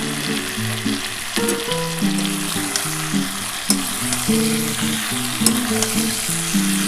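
Spice masala sizzles as it is sautéed in a kadai with a pinch of sugar for a vegetarian cauliflower curry, a steady frying hiss running throughout beneath background music.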